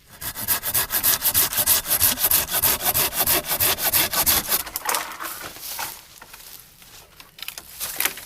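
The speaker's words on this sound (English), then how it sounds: "I'll use my silky saw." A Silky folding hand saw rasps through wood in quick, regular back-and-forth strokes, then slows into softer, scattered scraping near the end.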